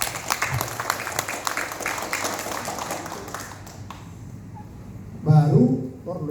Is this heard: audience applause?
yes